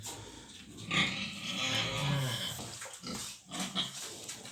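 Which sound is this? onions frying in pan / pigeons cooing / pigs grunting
pigs grunting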